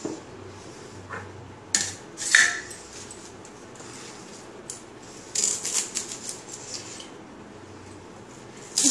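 A knife chops washed kharkol leaves on a board in a home kitchen, giving a few scattered sharp cuts and clatters with long quiet gaps between them.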